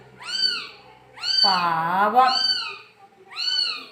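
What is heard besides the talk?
hungry kitten meowing for milk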